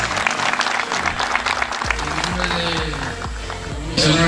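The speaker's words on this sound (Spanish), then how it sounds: "¡Fuerte los aplausos!" Crowd at a club football league opening applauding, sustained clapping under a loud speaking voice over a PA, with echoing announcer tones and a brief rise in level near the end.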